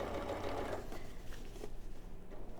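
A sewing machine stitches an appliqué cushion, its rapid, steady mechanical whirr running close and continuous with slight dips in pace and no talk over it.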